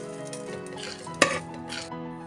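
Roasted coriander seeds and black pepper are scraped out of a pan into another vessel: a short run of stirring rustles, then one sharp metal clank of a spoon against the pot.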